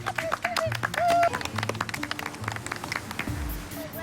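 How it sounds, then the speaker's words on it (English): A small family group at a sandcastle-building contest on a Malaysian beach claps briefly with a whoop, the scattered light claps mixed with nearby talk and beach activity. "Round of applause."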